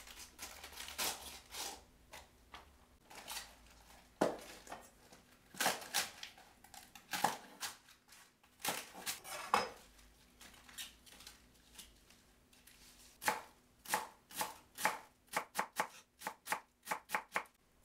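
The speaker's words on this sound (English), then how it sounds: "Mince 4 cabbage leaves." Knife mincing four cabbage leaves on a cutting board for stir-fried noodles with Mongolian beef: rapid irregular bursts of close, crisp chopping, pausing briefly and then quickening into fast rhythmic strokes toward the end, with no talking.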